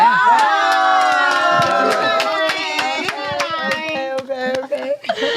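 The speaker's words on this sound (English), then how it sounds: "I don't know why y'all clapping." A crowd claps and cheers loudly, with dense overlapping voices and scattered hand claps throughout, growing choppier toward the end.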